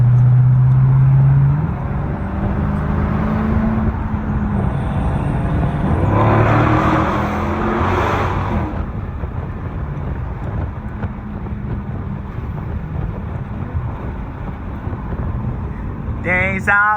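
A Dodge SRT 392 with a muffler delete drives along and its exhaust booms loud and close, with wind rush and a swell of roar partway through. A voice is heard briefly near the end.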